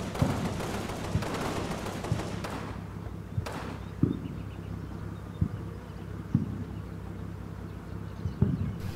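Tank and machine gun fire in the WWII wargame Combat Mission: Battle for Normandy. Sharp shots crack out about once a second over a low, steady rumble, with a few heavier bangs.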